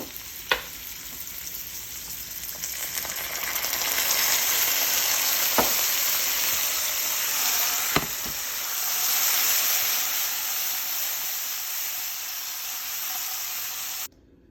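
Butter and hot sauce sizzle on crispy fried chicken of the woods mushrooms in oil, a steady close frying hiss that swells and eases while a few sharp pops and clinks cut through, with no voices.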